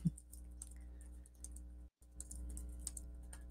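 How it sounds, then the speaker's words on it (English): Someone types on a computer keyboard during a command-line demo, a steady run of light, close key clicks with brief pauses and a short silent gap midway, no voices over it. "the fun of typing and forgetting command."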